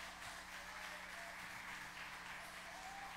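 Applause from a church congregation during a Sunday morning service, a soft, steady wash of clapping that stays at an even level throughout, sounding somewhat distant and faint.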